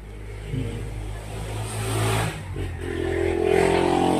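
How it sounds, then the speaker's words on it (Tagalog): A motorcycle engine revs nearby, rising and falling in a few surges over steady low rumble, getting louder toward the end. "Pangingay naman ng motor na yan."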